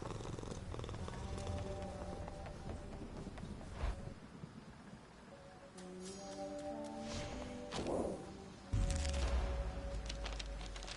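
Cats purring in the Hades 2 video game, a soft continuous rumble running under game music and ambient effects, with occasional louder swells and thumps.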